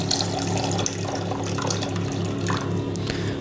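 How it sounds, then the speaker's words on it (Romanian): Warm water running from a tap into a pot of eggs, a steady close splashing and trickling stream that continues without a break and has no voices over it. "Voi adăuga apă, cât să le acopere îndeajuns."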